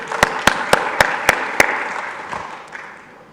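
An audience at a conference talk claps, opening with six loud evenly spaced claps that lead into a brief spell of looser scattered applause, which fades away.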